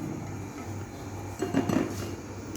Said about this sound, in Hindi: इसको अब हम बाउल में निकाल दें।